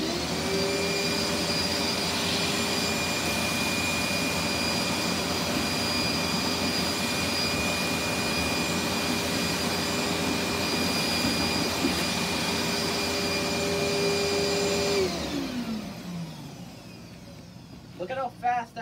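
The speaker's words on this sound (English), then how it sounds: "I'll show you how well this vacuum will suck all this hair up. This is a powerful vacuum." A Dirt Devil vacuum cleaner sucks up loose hair with a loud, close, steady motor drone and airflow roar. The sound holds evenly for about fifteen seconds, then winds down and fades, followed by a few faint handling knocks.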